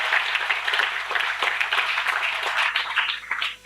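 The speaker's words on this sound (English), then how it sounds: "So I would like to give a big applause to all of you." An audience at an agricultural college valedictory function applauds the students with dense, steady clapping that fills the whole moment, fading slightly at the very end.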